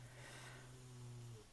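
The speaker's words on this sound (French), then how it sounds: "si vous entendez un petit bruit genre c'est normal, c'est mes chiens qui ronflent" Dogs snore softly and steadily, a faint, droning nasal rasp running nearly continuously through a quiet room with no talking.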